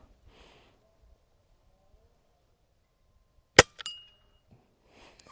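A single sharp metallic ding as an airgun pellet strikes a steel target, followed a moment later by a brief ringing clang, set in an otherwise quiet outdoor scene with faint rustling around it.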